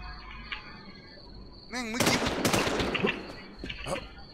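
A burst of rapid gunfire in the game Infestation, hardcore mode, erupts midway, loud sharp cracks in quick succession after a brief rising electronic tone, over faint background noise.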